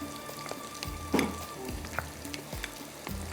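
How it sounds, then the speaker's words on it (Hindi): Onions frying and browning in a pan while cooking a gobhi qeema katakat dish, with a steady crackling sizzle and occasional stirring scrapes, close and moderately quiet with no talking. "यहाँ पर प्याज हमारा ब्राउन हो रहा है"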